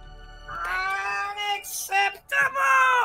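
Cartoon Cat in the Minecraft game meows in a series of drawn-out, wavering cries, loud and close, rising and falling with short gaps between calls.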